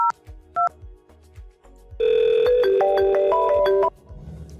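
A VoIP softphone call from X-Lite to a 3CX extension on a FreePBX server rings loudly for about two seconds with a steady electronic ringback tone, preceded by a few quiet clicks and beeps.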